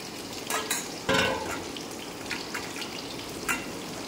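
Sliced onion rings and garlic fry in hot oil in a pan, a steady sizzle broken by louder bursts as the pieces are stirred and tossed.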